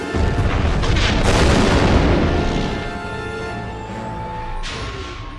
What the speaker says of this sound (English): So we save Juno and also kind of blow the entire place up in the process.